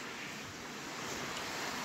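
A scenic river flows beneath a small wooden footbridge at the entrance to a spa near Lazar's Canyon, giving a steady, dense rushing wash with no pauses and no voices.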